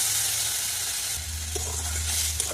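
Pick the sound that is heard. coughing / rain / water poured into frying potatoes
water poured into frying potatoes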